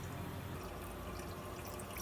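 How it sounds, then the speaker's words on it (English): Water runs from a tap during an aquarium water change, a steady faint hiss of flowing water throughout. "The water running through now is nice and cool"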